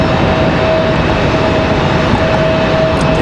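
An Aeromexico Connect airliner in revamped livery arrives at Raleigh-Durham International, its engine roar loud and continuous with a steady whine running through it.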